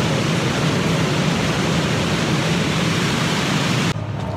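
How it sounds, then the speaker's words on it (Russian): A river rushing under a bridge in Gdańsk, a loud steady broadband roar of flowing water heard from above, cutting off abruptly near the end. "Здесь река, она подходит подо мной."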